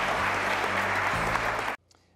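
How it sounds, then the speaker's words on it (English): Audience applause after a business panel discussion on venture capital, a dense burst of clapping that stops abruptly after under two seconds, leaving near silence. "How about a big round of applause for a great panel?"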